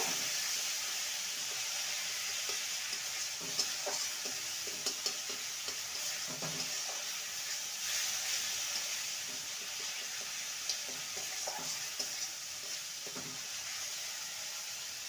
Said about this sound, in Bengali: মশলাটা ভালো মতন কষানো হয়ে গেছে